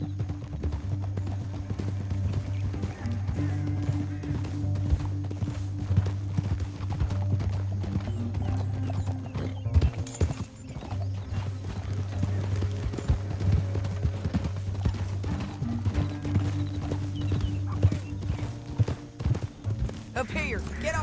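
Steady clip-clopping of horse hooves trotting along, continuous and fairly close, with voices and a low background rumble throughout, in the video game Red Dead Redemption 2.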